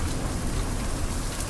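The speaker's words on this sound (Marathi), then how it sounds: "खूपच लेवलला पाऊस वाढलाय" Heavy monsoon rain pours down at Uran Beach, a dense, loud, unbroken roar of rain hitting surfaces with gusty wind, with no voices.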